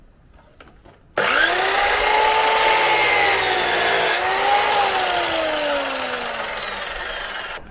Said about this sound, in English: get the chops out, cut these nice and straight, drill them, screw them together